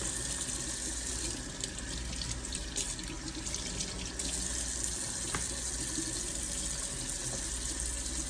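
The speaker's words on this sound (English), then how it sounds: "And I rinse each piece." Tap water runs steadily into a kitchen sink while pieces of liver are rinsed, a continuous close splashing flow with faint handling sounds and no talking.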